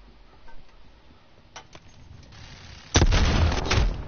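A turret firing on the player in a video game: faint scattered shots at first, then a loud burst of heavy rapid fire near the end.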